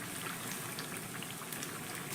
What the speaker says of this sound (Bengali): উপর থেকে একটু করে গরম তেল ছিটিয়ে দিচ্ছি, যাতে উপর দিকটা সুন্দর করে ভাজা হয়ে যায়।